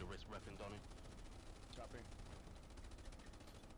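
Sustained gunfire in the WWII shooter Hell Let Loose during a competitive league match, rapid shots repeating at a steady rhythm throughout, with brief voice chatter near the start and again partway through.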